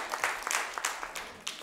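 A short burst of audience applause at an Italian gathering, a soft, diffuse patter of clapping swelling and dipping in uneven waves over a second and a half.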